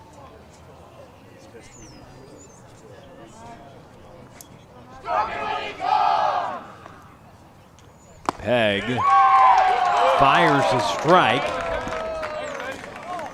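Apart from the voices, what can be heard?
crowd cheer at a high school baseball game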